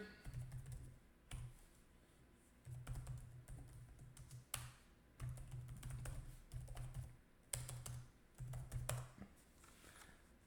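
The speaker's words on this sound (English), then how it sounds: "Simply type in your website here." Website address typed on a computer keyboard in quiet room, fast bursts of close key clicks separated by short pauses, with a low steady hum underneath.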